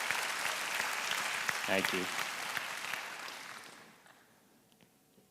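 A conference audience applauds a musical interlude, the dense clapping filling the hall for several seconds before tapering off into quiet, with a brief spoken thanks over it.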